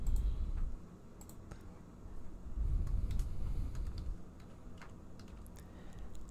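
Keystrokes on a computer keyboard while a page title is typed in Google Sites, soft scattered taps at close range over a low background hum, with no talking.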